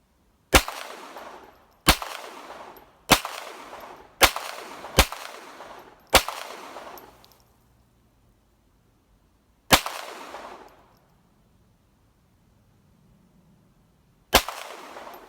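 A Ruger Mark IV pistol fired at a range, seven sharp, loud shots with brief ringing tails: five in quick succession, then a pause, one more shot, and a final shot after a long gap. No one speaks.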